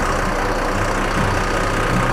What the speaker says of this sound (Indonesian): ini mesinnya menggunakan mesin dari Mercedes-Benz dengan tipe OM906LA Euro 4